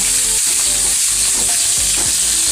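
Whole okra sautéing in hot oil, a steady close sizzle with soft stirring scrapes across the pan and no voices.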